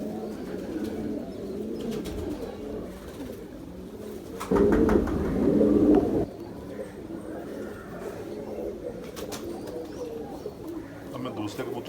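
Pigeons cooing at a pigeon show of Teddy pigeons, low throaty coos repeating close by, with a louder burst of cooing and rustling midway and someone talking over parts of it.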